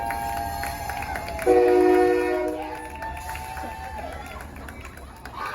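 A train passes close by, its horn sounding in steady harmonic blasts over a low rumble, with excited voices talking over it.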